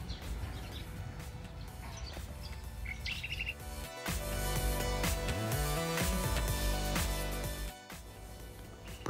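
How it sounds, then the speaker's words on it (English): Birds twitter and chirp in a rural Australian setting near fruit pickers' cabins around Mundubbera, with scattered calls over a dense, steady background of other noise and no voices. "Birds twitter"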